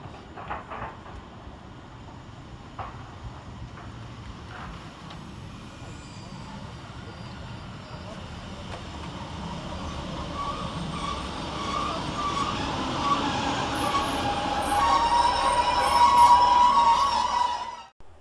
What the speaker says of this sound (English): rounding the corner is our train 156471, working the 1410 Northern service